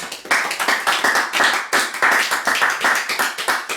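A church congregation clapping for the Lord at a worship service, brisk and steady rhythmic handclaps from many people, loud and close with no talk over them.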